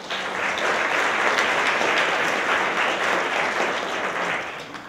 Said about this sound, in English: Let's give him a big round of applause in his absence.